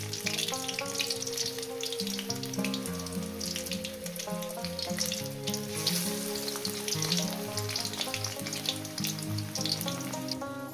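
Onion pakoras fry in hot oil, a loud, close, continuous sizzle and crackle that never lets up, with background music playing underneath.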